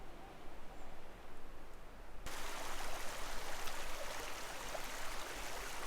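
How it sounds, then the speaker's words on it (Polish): A forest stream in the Owl Mountains, Poland, flows and burbles steadily, a continuous rushing that grows louder partway through, with no voices. "Bardzo ładny strumień, no ale trzeba jakoś przejść."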